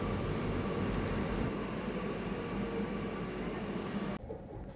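Steady rumbling hum of a metro train in motion heard from inside a carriage, with a constant airy whoosh, ending abruptly in quieter near-silence.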